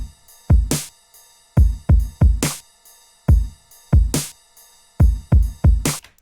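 A programmed electronic drum loop at 140 BPM made in Renoise for dubstep: deep punchy kicks interleaved with bright crisp snare hits in a sparse, steady pattern, clean and loud with no voices.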